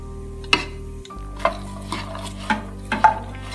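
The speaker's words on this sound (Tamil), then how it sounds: "இதை நல்லா கலந்துக்குவோம்" Boiled sprouts and lentils stirred together with fried onions in a pan, several distinct spoon scrapes and knocks against the metal at irregular intervals over a faint low hum, close by, no voices.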